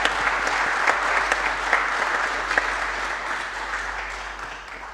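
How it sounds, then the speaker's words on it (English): Conference audience applause after a presentation at a NATO stability policing event in Vicenza, a steady wash of many hands clapping at moderate volume that fades slightly toward the end, with no voices on top. "please join me in offering them a round of applause for the presentation"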